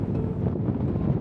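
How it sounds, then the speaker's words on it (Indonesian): Strong wind buffets the microphone high on Mount Rinjani during a summit climb, a steady, loud roar with no break across the moment and no voices over it. "Meskipun dalam kondisi angin yang super duper kencang, tapi kita tetap mau coba summit ke puncak Rinjani."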